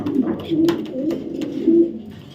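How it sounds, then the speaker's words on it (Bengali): Racing pigeons of foreign bloodlines coo in short, low, throaty bursts, close by, repeating a few times against a background of voices. "এত চমৎকার কবুতর কবুতর সারা দিন ডাকে"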